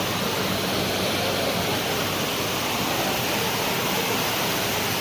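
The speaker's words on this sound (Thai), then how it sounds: "เดอะมอลล์บางแคก็เขามีเป็นแบบเหมือนน้ำตก" An artificial indoor waterfall in The Mall Bang Khae shopping mall in Bangkok pours down as a constant, loud, even rushing roar of falling water with no other sounds standing out.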